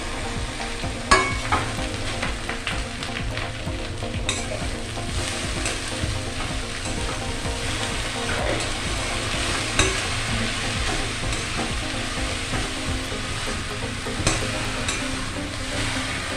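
Finely chopped taro leaves are stir-fried in a pan with salt and turmeric, giving a loud, continuous sizzle with repeated stirring and scraping, close up and free of speech.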